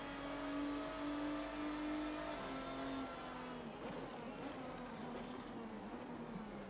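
A race car engine in the Assetto Corsa racing game screams at high revs with a sustained, droning tone that shifts pitch through gear changes, loud and continuous with no talking.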